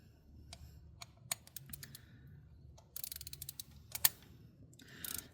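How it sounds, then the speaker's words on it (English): A hand ratchet tightens a spark plug in a 2016 Nissan Murano's aluminum head, giving scattered short clicking runs and sharp ticks, close and fairly quiet, with no talking. "when you get to a point where you have some resistance, you can switch to your ratchet"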